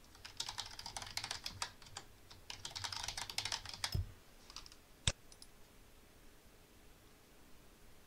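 A password is typed on a computer keyboard. Soft, quick key clicks come in close bursts for about four seconds, followed by quiet and then one sharper keystroke, with no voice heard.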